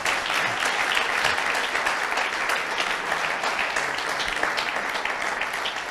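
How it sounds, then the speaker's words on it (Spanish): A church congregation at a Sunday closing service applauds loudly and continuously, with dense, even clapping throughout and no break. "Yo doy un aplauso para todos vosotros."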